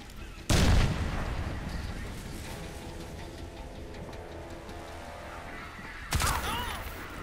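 Two loud, booming grenade blasts from Crysis 2, one near the start and another near the end, with a rumbling, crackling battle din sustained between them.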